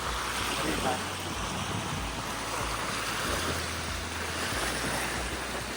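A steady, broad roar of waves washing in on a lake near Dajipur sanctuary, continuous and fairly loud, mixed with wind buffeting the microphone.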